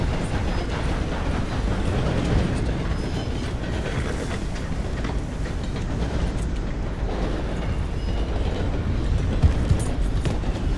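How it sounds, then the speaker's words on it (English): Train passing in Red Dead Redemption 2, a loud continuous rumbling roar with rolling rattle that swells slightly toward the end. "Almost run behind the train."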